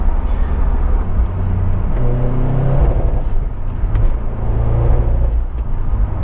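Subaru Impreza WRX STI rally car, a 400 hp road-going build, pulls hard while driving, its loud engine drone rising and falling through gear changes in a steady, close-up cabin rumble.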